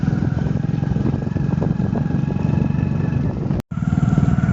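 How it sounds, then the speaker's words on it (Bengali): Motorcycle engine on a muddy village road, a steady close idle with a regular low chugging pulse, briefly cut off near the end before resuming, no voices. "এখন এই দেখো মোটরসাইকেল এই পাশে আছে"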